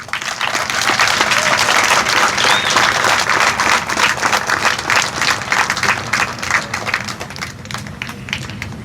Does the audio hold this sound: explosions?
no